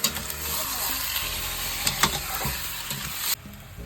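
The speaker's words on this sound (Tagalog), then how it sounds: "Atong ukayon gilagmay, aron musagol ang mga panakot sa karne." Meat with spices stirred in a pan for guisadong mongos, a steady close sizzle with scraping stirs and a few sharper clinks of the utensil against the pan, no talk over it.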